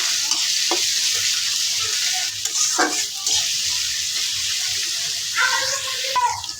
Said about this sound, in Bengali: আদাটা পেঁয়াজটা বাজি নিতেছি একসাথে